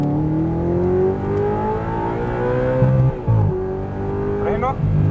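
An Audi R8 on a driving experience near Cancun accelerates progressively, its engine note rising steadily in pitch before a brief gear change and renewed climb, with an instructor talking over it.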